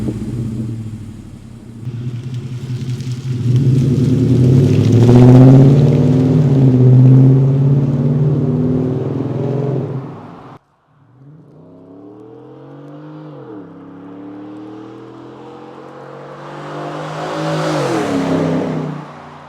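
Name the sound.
pickup truck cat-back exhaust revving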